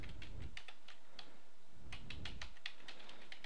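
Someone types an Exchange Management Shell command on a computer keyboard, a quick uneven run of close, soft key clicks with brief pauses, with no talking.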